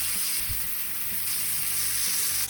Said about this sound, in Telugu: ఇప్పుడు ఇందులోకి మనం వాష్ చేసి పక్కన పెట్టుకున్న మటన్ని యాడ్ చేసుకొని మంచిగా మిక్స్ చేసుకోండి